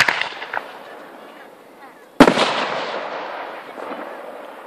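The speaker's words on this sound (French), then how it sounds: "Ça, c'est le pot à feu de L8." Fireworks mortar shell launched at a night display in Les Ecrennes: a faint crackle, then a sharp loud burst whose crackling, rumbling tail decays over several seconds, with quiet voices nearby.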